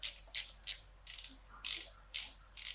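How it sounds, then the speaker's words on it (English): A socket ratchet clicks in short bursts while loosening an alternator bolt on a Honda S2000, about eight quick ratcheting strokes, close and fairly quiet, with no talking. "I've already got my socket on. So we are going to"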